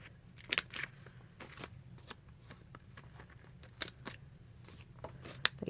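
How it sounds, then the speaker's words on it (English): Scissors snip around the edges of a paper library pocket, a string of sharp crisp cuts spaced irregularly over a low steady hum, close and fairly quiet. "snip off edges"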